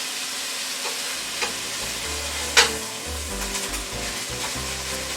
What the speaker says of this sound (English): you just want to brown this up